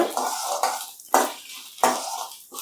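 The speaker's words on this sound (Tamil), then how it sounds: "நல்லா ஒரு பொன்னிறமாக ஆகிற அளவுக்கு இதை வறுக்கணும்." Spices and dried red chillies being dry-roasted over a medium flame, a spoon scraping and stirring against the pan in four distinct rhythmic strokes, close and clear.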